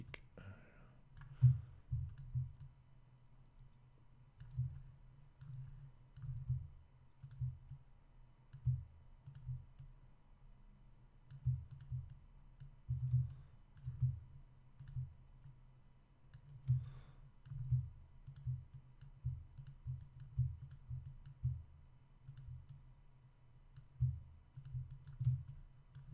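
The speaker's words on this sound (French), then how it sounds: "je clique, je relâche, je copie, Alt, je clique" Soft computer mouse clicks come in steady, irregular bursts during photo editing in Photoshop, faint and close, with a low background hum and no talking.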